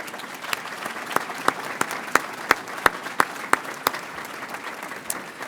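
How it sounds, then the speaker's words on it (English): An audience at a college commencement ceremony claps in a steady patter of scattered, distinct hand claps, moderately loud and fairly close, continuing for several seconds with no voices over it. "Let's give them a tremendous round of applause."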